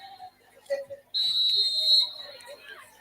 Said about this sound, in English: They can hear the whistle here.